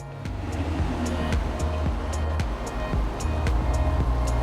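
A supercar at a Premier GT club meet rumbles low and steadily as it is driven outside, with a regular pulsing engine note close by and no talking.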